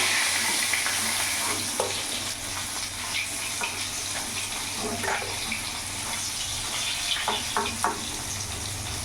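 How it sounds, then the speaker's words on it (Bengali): Rohu fish pieces frying in oil in a home kitchen, a continuous sizzle with occasional clicks and stirring scrapes, close and moderately loud. "মাছগুলো ভাজা হয়ে গেছে, আমি এবার নামিয়ে ফেলবো।"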